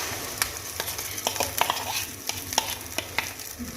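Chicken omelette batter goes into a hot pan, giving a soft, steady sizzle broken by sharp utensil clicks close by.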